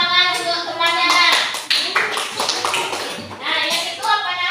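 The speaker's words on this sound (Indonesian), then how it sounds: "itu tepuk tangan untuk temannya" Schoolchildren clapping for a classmate in a classroom, with bursts of quick hand claps mixed with children's voices and an adult speaking over them.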